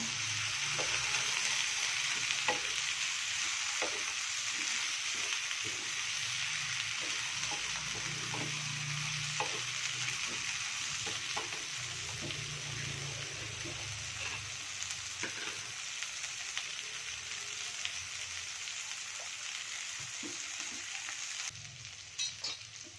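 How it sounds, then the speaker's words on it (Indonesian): Eggplant pieces fry in a pan for vegetable lodeh, a continuous close sizzle broken by repeated scraping and stirring taps, with no voices. "kita masukin terongnya ya. Kita aduk bentar."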